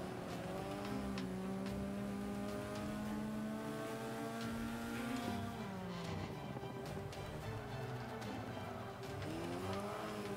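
Alfa Romeo GTA Stradale with a stock 5-speed transmission in the racing game Forza 5, its engine droning steadily and rising through the rev range down a straightaway, with brief tire squeal, loud and continuous throughout.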